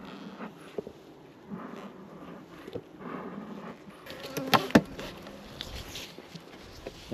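Honey bees buzz close around a beekeeper's head at a hive during varroa treatment, a continuous droning hum with rustling and handling noises that grow busier partway through.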